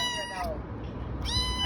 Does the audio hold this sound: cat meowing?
yes